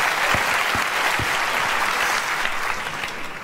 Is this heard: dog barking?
no